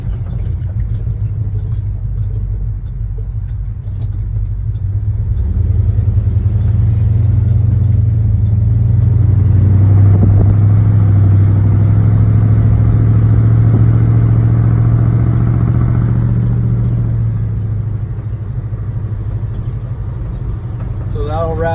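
A Dodge D100 pickup truck drives along a road on a test run, its engine drone swelling louder through the middle stretch before easing back down near the end.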